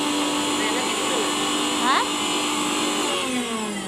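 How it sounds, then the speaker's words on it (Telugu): Steady whirring motor hum of an electric churner churning butter for ghee, running continuously, with a brief voice speaking over it partway through. "వెన్న తిప్పుతున్నాను నెయ్యి చేయడానికి"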